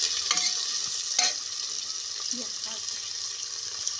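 Onion is fried in a pan on a gas stove for a village-style rice dish. A soft frying hiss runs under a few scattered spoon scrapes and clinks, fairly quiet and close.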